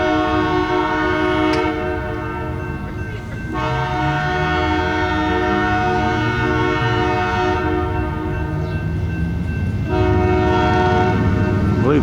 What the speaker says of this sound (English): our train's supposedly coming. I hear it, but I don't see it yet.